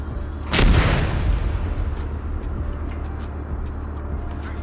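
A single heavy gunshot or blast in the military shooter ARMA 3, a loud close boom that rolls off into a long fading echo over a low rumbling background, with faint ticking after it.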